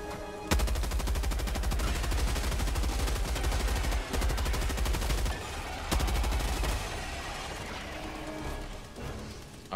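Rapid automatic gunfire from the video game Helldivers 2, a dense continuous burst with brief gaps near four and six seconds, loud and close with no talk over it.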